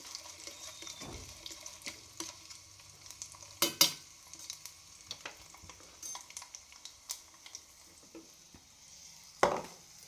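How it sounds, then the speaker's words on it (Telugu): Spices for a cucumber chutney tempering fry in a pan, with a faint, steady sizzle under scattered sharp clinks and scrapes of a spoon against metal, a couple of louder knocks standing out. "తిరుమాత వేగిందండి."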